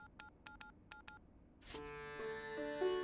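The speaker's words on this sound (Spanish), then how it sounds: "Poner un ruido horrible como alerta de los mensajes." A harsh phone message alert from a cartoon: a burst of rapid electronic beeps in pairs, then a sudden loud, sustained, buzzing tonal blare that swells and wavers until the end.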